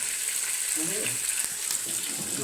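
Onion sizzles in very hot oil with a steady, bright hiss that holds throughout. A faint voice murmurs underneath.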